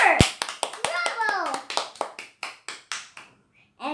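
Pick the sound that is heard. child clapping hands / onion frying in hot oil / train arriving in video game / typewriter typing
child clapping hands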